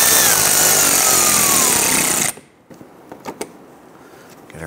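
Screws being snugged down by hand on the front grille of a 2011–2019 Ford Explorer, heard as a long steady buzzing run that cuts off abruptly, followed by a few short faint clicks and creaks nearby.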